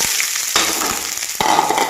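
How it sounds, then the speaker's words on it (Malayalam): Onions frying in hot oil with mustard seeds for an egg curry, a steady close sizzle with bursts of crackling and sharper stir-like surges, no voices. "കടുക് പൊട്ടിച്ചു, പിന്നെ സവാള ഇട്ടു."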